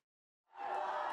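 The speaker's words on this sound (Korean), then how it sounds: "지지자들의 열렬한 환호 속에 한동훈 전 비대위원장이 국회에 나타났습니다" Enthusiastic supporters cheer as Han Dong-hoon, former emergency committee chief, arrives at the National Assembly; a loud crowd roar swells in abruptly after a brief silence and holds steady.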